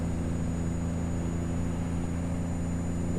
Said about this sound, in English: But that's the sound of the Cummins.